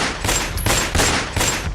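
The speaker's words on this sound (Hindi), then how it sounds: "जिन अपराधियों ने अस्पताल में दनादन गोलियां चलाई" Rapid bursts of gunfire from a shooting inside a hospital, captured in news footage: loud, dense volleys of shots in about four clustered bursts, with no talk over them.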